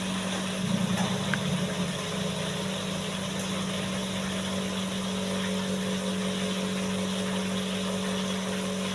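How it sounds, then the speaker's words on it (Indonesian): A household water pump motor runs as a steady, faint mechanical hum with a constant tone throughout, heard indoors near a kitchen where food is being fried. "Nggak tahu suara mesin air apa suara"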